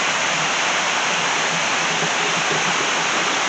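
River water flowing, heard as a dense, steady broadband rush that stays constant and fairly loud throughout, with no voices or other distinct sounds over it.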